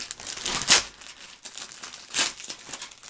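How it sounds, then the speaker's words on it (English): Plastic bag crinkling as a Revell Sukhoi T-50 model kit is pulled out, two loud crackling bursts with softer rustling between them, close and with no talk. "Let's just get it out of this plastic bag."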